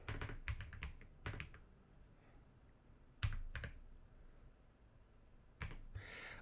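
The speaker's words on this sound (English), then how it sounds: "that's a relatively new mechanical keyboard I got" A relatively new mechanical keyboard typed in short bursts, sharp, close clacking clusters separated by quiet pauses, with no speech.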